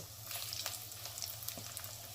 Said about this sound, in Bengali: এবারে আমি একটা একটা করে বড়া তেলে ছাড়ব।